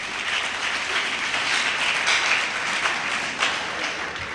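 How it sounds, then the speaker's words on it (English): A lecture-hall audience at an inaugural lecture claps for guests joining online, giving sustained, even applause that fills the room from start to finish, with no voices. "let's clap for them for joining"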